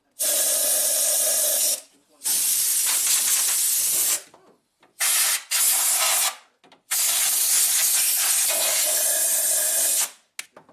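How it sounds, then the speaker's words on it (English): Compressed air blasts rust dust out of a Mitsubishi Montero engine bay during repairs, with four loud, close hissing bursts of uneven length separated by short silences. "Let's blow out that rust dust."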